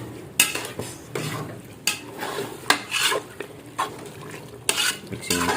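Chicken biryani is mixed in a pot with repeated scraping stirs, each sharp spoon stroke on the metal followed by softer shuffling of the rice, in an uneven rhythm over several seconds.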